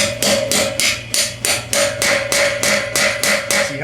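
A hammer taps a socket into a Sears Craftsman LT 2000 lawn mower part, giving about eleven loud, ringing metallic strikes at a steady, even rhythm, heard alone.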